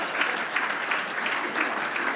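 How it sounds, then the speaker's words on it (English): Audience at an awards event gives sustained applause, many hands clapping in a dense, even patter with slight swells, fairly close and without speech over it. "why don't we applaud for them after?"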